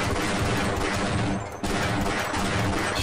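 Rapid pistol shots from Half-Life: Blue Shift fire in a dense, loud, almost unbroken string, with a short lull midway before the shooting resumes.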